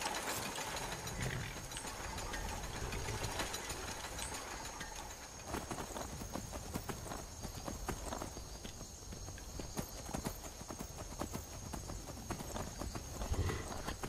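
Horse hooves clip-clop in a fast, continuous patter in a Skyrim game scene, steady and fairly close for the whole stretch.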